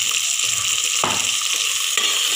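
Onions sautéing in a pan with a little salt, a steady close sizzle with a couple of sharp scrapes of stirring, no one speaking.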